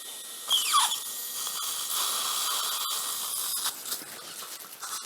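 A high-pitched 2.2 mm dental implant drill whines steadily, with a brief rising squeal near the start and faint hissing throughout.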